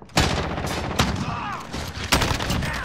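Shotgun blasts in Call of Duty: Modern Warfare, three loud booming shots spaced roughly a second apart, each with a short rattling tail, close and prominent.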